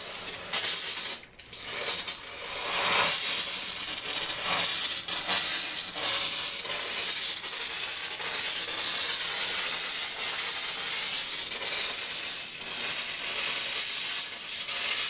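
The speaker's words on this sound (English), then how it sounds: "I want to steam clean in there." Steam cleaner blasting a steady high-pitched hiss into the rear wheel area of a 1991 Yamaha FZR 1000 motorcycle, continuous and close, with one brief break near the start.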